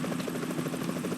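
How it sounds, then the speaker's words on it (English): A helicopter's rotor thumps in a steady, rapid rhythm in the video game Metal Gear Solid 2: Sons of Liberty, loud and continuous throughout. "Is that a chopper I just heard?"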